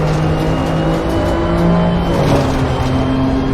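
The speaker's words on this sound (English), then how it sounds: "cars are flying through at over 200 kilometers per hour" BMW M2CS race cars on track, engines roaring loudly at high revs with a surging pass and a shift in pitch midway, steady and close throughout.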